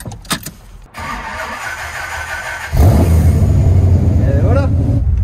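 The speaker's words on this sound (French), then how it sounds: "Est-ce que ça va démarrer" Dodge Viper RT/10 engine starting: after a few clicks and a starter crank, the big engine catches with a loud, deep roar and settles into a heavy, rumbling idle close by, with voices talking over it.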